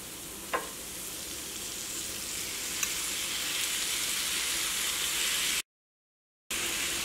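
Marinated chicken fries on a hot tawa for an easy chicken fry, a dense, steady sizzle with occasional stirring scrapes, close and continuous apart from one brief dropout near the end.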